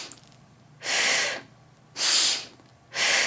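Three deep inhales in a vocal breathing exercise during a singing lesson, each a close, breathy rush under a second long, with short quiet gaps between them.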